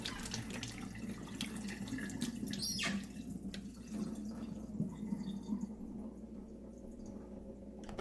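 Water trickles and splashes steadily as it drains out of a Mercedes coolant reservoir past the level sensor, close and fairly soft, with a few small knocks and no talking.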